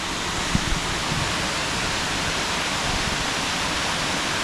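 Rutledge Falls in Tullahoma, Tennessee: water pours down in a steady, dense rush that holds unbroken and fairly loud throughout, with no voices.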